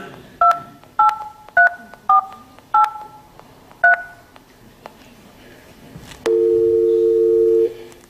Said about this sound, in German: Da bin ich jetzt versehentlich auf die Wahlwiederholungstaste gekommen.